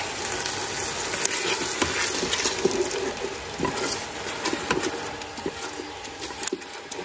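Manwich sauce being stirred and scraped in a pan while sautéing on high heat, a steady sizzle with irregular clicks and scrapes of the utensil, close and continuous with no talking.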